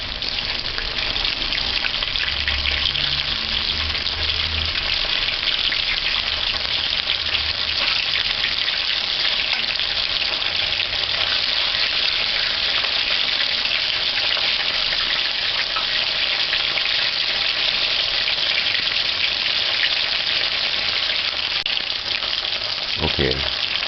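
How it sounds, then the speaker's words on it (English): Boiled dumplings fry on one side in a pan. A steady, loud, even sizzle crackles throughout and stays unbroken to the end, with no voices over it. "Just allow that to fry on one side."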